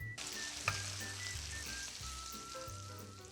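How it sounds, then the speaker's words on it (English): Apple slices fry lightly in melted butter with sugar and cinnamon, making a quiet, continuous sizzle with one small pop early on and no voices. "So you're just gonna melt the butter, add some sugar, add some cinnamon, fry them lightly on one side, flip them over, fry them on the other side"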